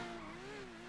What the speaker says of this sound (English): This car is really fucking loud.